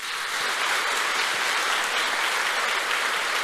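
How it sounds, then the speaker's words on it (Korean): A church congregation gives a dense burst of applause at a lecture, a steady, full wash of clapping that holds evenly loud from start to finish with no talk over it. "지금 끝나기 전에 박수 한번 쳐주세요"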